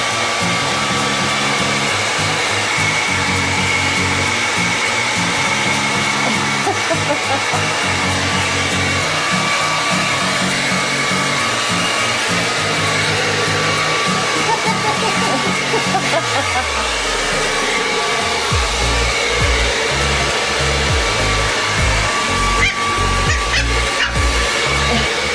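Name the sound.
blow dryer running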